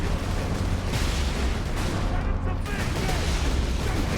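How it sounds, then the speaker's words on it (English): Rocket blasts and heavy gunfire from the Space Marine video game roll in a dense, continuous barrage, with booming impacts layered over sustained loud combat noise. "Oh, there's a second rocket now."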